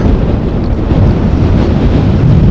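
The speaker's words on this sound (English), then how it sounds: "This is also where the wind is coming from." Strong gusty wind buffets the microphone at Amsterdam airport during stormy weather, a loud, continuous broadband roar with no voices.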